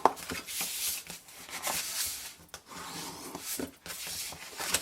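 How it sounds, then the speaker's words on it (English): Burnishing tool rubbed along paper score lines while making a twist-and-close card box: repeated close, soft scraping strokes in short bursts with brief pauses, no talk. "So burnish your score lines."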